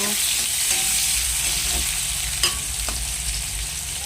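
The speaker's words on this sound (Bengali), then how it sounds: "এখন পেঁয়াজ দিচ্ছি, পেঁয়াজটা ভালোভাবে ভেজে নেব।" Onions sizzling and frying in a hot pan in a home kitchen, a steady bright hiss with a couple of sharp clinks of a utensil against the pan partway through.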